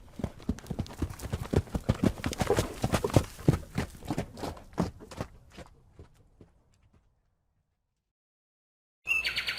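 A horse in Minecraft walking on hard ground, a rapid run of close clip-clop hoofbeats that slows and fades into silence, followed by a short burst of other sound at the end.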